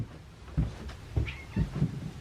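Growing feral kittens give a few short, faint meows at feeding time, asking for more canned chicken and whitefish food, with soft bumps in between and no talking.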